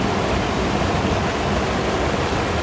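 Water flows steadily at the Derekızık Aral trout farm, a dense, unbroken close rush of churning water with no pauses.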